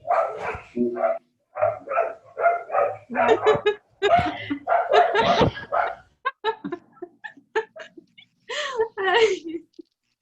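A dog barks and yips in short repeated bursts close by, its calls mixed in with a person talking during an online business English class.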